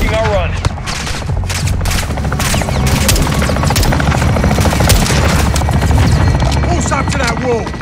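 Video game combat from Call of Duty Modern Warfare II: a helicopter strike on a building, with loud continuous rotor thrum under rapid gunfire bursts and booms, and radio voices talking throughout.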